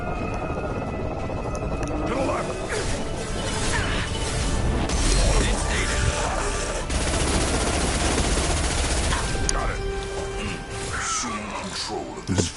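Rapid bursts of gunfire from a Mass Effect 3 firefight clatter densely and almost without pause, mixed with game noise and someone talking over it.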